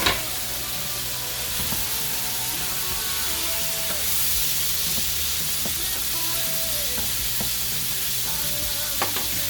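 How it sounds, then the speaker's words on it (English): Pineapple, onions, mushrooms and capers sizzle as they reheat in a pan, a continuous close frying hiss broken by occasional stirring clinks and scrapes. "Just going to throw those in to reheat them. Then I am going to heat up just for a minute this pineapple."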